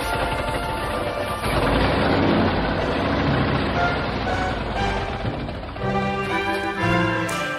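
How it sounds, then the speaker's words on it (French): A car engine idles close up in a scene from the animated film My Neighbor Totoro, a dense, loud rumble with a steady low throb running unbroken throughout, no voices over it. "on n'entend pas simplement le bruit d'un moteur, on est à côté du moteur dans cet extrait"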